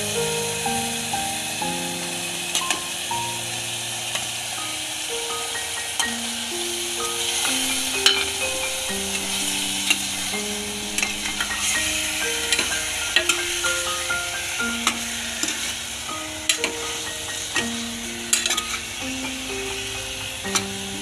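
Fish masala sautéing in a pan, a constant crackling sizzle with repeated spatula scrapes and knocks throughout, close and fairly loud, while a tonal melody plays faintly beneath.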